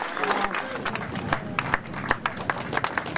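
An awards crowd claps loudly and steadily for a junior race winner, sharp overlapping hand claps continuing throughout, with a voice speaking over the applause.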